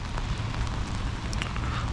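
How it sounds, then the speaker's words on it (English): Steady rain falls throughout on a warm day, a dense, continuous patter with a few sharper drops standing out, close and unbroken with no talking. "it's raining and it's warm"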